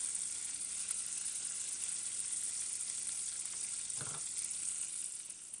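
Pancetta fries in a pan as it cooks down and releases its fat, a steady close sizzle with one brief clatter partway through and no talking.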